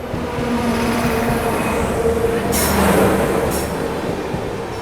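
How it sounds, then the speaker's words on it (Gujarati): The Mumbai Central–Bhavnagar Terminus Superfast Express crosses at Dhola Junction railway station, a loud, close, continuous rumble of coaches and wheels with brief hissing surges midway. "Mumbai central Bhavnagar terminus superfast express, જેનું હાલ આપણું ક્રોસિંગ થયું છે અહીંયા ધોળા જંકશન રેલવે સ્ટેશન ઉપર."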